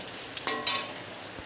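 Whole coriander seeds fry in a pan with fried ginger, garlic, onion, green chilli and coconut, giving a faint sizzle broken by a few short scraping stirs, quiet and close.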